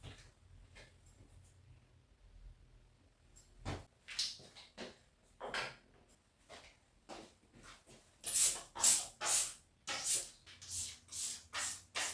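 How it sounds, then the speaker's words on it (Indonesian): Floor-cleaner spray is squirted in a bathroom in a rapid series of sharp hissing bursts, close and fairly loud, the later squirts coming in quick rhythmic succession. "Kamar mandinya juga saya semprot khusus dengan semprotan lantai ya teman-teman"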